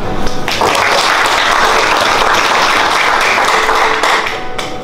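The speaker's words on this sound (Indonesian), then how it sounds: "Ya, tepuk tangan." An audience at an ISO 9001:2015 external quality management audit meeting applauds, dense steady clapping from many hands filling the room, close and loud, fading toward the end.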